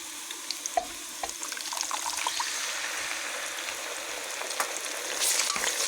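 Bubbling, hissing sizzle builds as a blender-ground wet spice paste fries in a pan for duck curry, with soft stirring clinks and a watery, spluttering edge.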